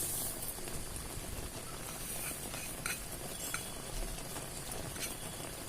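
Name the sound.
sesame seeds added and stirred in frying pan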